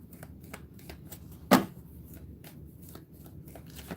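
An Angel Oracle card deck being shuffled by hand, soft rhythmic card flicks with one sharp louder snap midway, close and quiet with no voice.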